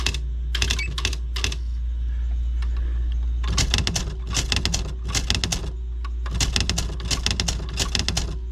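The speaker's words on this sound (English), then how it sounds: "this is me trying to type when I first powered it up and it was barely" An old electric typewriter, found at a garage sale and just powered up, types in short bursts of sharp clacking keystrokes, first a few isolated strikes and then faster rapid runs, over a steady low motor hum.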